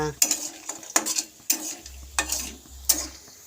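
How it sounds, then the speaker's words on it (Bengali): Sun-dried lentil dumplings frying in a pan in a home kitchen, a light sizzle under repeated metallic clinks and scrapes of a spatula against the pan in an uneven rhythm, close by with no talk. "কি হচ্ছে এটা? বড়ি ভাজা।"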